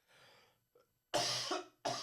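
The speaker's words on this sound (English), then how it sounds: "a cough." A person in an interview coughs, a faint throat sound first, then two sharp, loud coughs close to the microphone, the second short and abrupt, with no speech.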